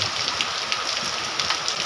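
Heavy rain pours down during a typhoon in hilly, mountainous country. The close, dense hiss is steady and unbroken, with scattered louder spatters and no voices.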